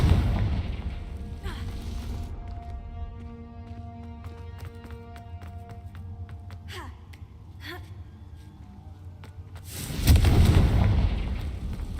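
Spell explosions from the Hogwarts Legacy video game, with sharp bursts and crackling impacts over a humming game soundtrack, ending in a loud rumbling blast.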